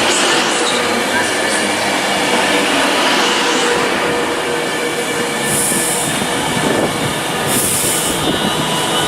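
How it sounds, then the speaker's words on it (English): A Class 390 train pulls out of Warrington Bank Quay for Glasgow Central, a loud close rumble with squealing wheels and high metallic whines, steady throughout and drowning any voices. "Now departing is 390 128, the service bound for Glasgow Central from London Euston."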